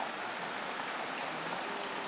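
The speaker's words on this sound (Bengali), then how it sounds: "তো খুব বৃষ্টি পড়তেছে" Rain falls steadily over the Rangpur area in Bangladesh, a dense, even hiss of drops close by with no pauses.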